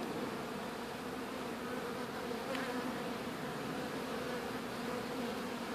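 Honey bees from a swarm drone steadily inside a hive box, a dense, continuous buzz close by with no voices over it.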